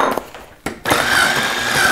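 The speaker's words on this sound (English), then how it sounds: "Use your blender on a medium setting and just mix the butter and sugar together until you have one nice, smooth, fluffy, creamy consistency." Electric blender on a medium setting creaming butter with brown and white sugar in a kitchen, a loud steady whir that starts after a brief pause and stutter, then runs continuously, close and alone.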